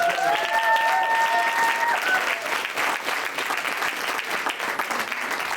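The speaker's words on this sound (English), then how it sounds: "Give her a big round of applause." A gala audience breaks into dense, sustained applause that fills the room at a steady, loud level, with a brief voice or tone rising faintly over the clapping at the start.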